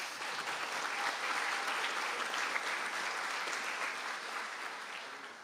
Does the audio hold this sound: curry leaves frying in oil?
no